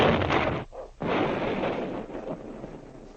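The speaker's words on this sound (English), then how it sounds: "the sound of the explosion came to their ears" A big booming blast from an old-time radio drama rolls out loud and sustained, with a brief dip before the roar surges again and slowly decays.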